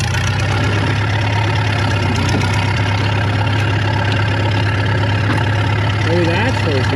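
A tractor engine runs steadily and loudly throughout, with a constant low rumble and no clear rhythm changes, while people talk faintly over it.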